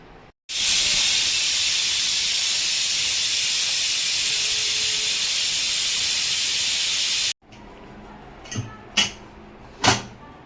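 A small pressure cooker on a stove, cooking gongura dal, releases a loud, sustained steam hiss for several seconds, then cuts off abruptly, followed by a few sharp clinks and clatters.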